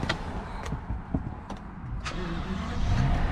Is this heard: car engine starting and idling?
yes